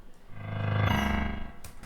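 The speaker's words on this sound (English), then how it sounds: "I took the MIDI from the previous bass sound and I got it onto a piano sound" Piano played in its lowest octave, doubling a pop bass line; a few sustained low notes ring out with a dark, buzzy tone, steady and alone.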